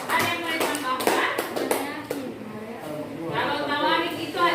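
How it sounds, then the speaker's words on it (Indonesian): A high school classroom gives a short burst of applause for a student group, scattered claps mixed with voices talking nearby. "Tepuk tangan untuk kelompok 1"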